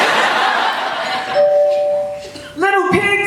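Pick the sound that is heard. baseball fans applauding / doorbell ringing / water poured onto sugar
doorbell ringing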